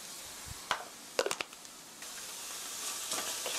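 Sugar added to a sizzling eggplant sauce in a pan for an eggplant rice bowl, with a soft hiss of frying and a few quick stirring scrapes and clinks, faint and close.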